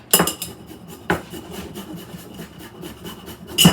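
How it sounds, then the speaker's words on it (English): Parmesan cheese scraped across a fine grater, a few sharp rasping strokes with quieter scratchy rubbing between, close and alone. "So I've got this fine grater. And we're going to grate this up."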